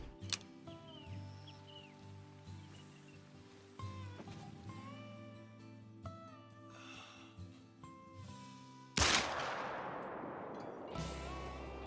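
Hunting rifle shot at 85 yards in the Call of the Wild hunting game: a single sharp, loud crack late in the clip after a quiet stretch of layered ambient game sounds, followed by a lingering rumbling echo.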